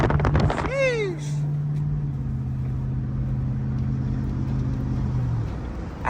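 Road traffic on a street, with cars passing and a steady engine hum and tyre noise throughout, while a voice speaks briefly at the start.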